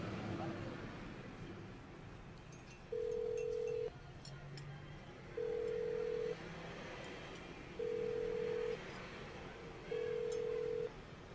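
Four evenly spaced electronic telephone ring tones, about a second each, repeat over a faint steady hiss while a call goes unanswered.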